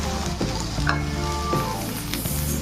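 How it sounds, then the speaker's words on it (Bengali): Cauliflower, beans, carrot and capsicum fry in a pan under a loud, constant sizzle, with repeated scraping stirs at a steady rhythm, close up, and no voices. "এখন 5-7 মিনিট খুব ভালোভাবে ভেজে নেব সবজিগুলো।"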